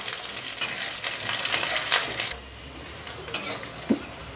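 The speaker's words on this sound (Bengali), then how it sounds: "এখন আমি বাদামগুলো দিয়ে দেব। বাদামগুলো একটু ভেজে নেব।" Peanuts fry and sizzle in a pan with black cumin, with a spatula stirring and scraping against the metal in bursts, close and fairly loud, with a few small clinks near the end.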